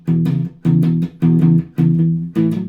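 Five short, evenly spaced notes on an electric guitar are played with a light palm mute in a Texas blues style. Each note thumps and decays quickly and sounds close, with no voice over it.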